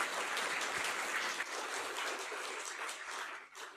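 Seminar audience at a data science talk applauds, a faint but steady patter of many hands clapping that holds evenly and dips slightly near the end.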